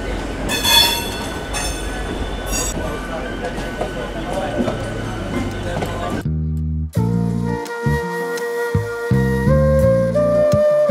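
A local train runs from Howrah toward Rishra in West Bengal, with steady rumbling wheel and carriage noise for about six seconds before music takes over for the rest.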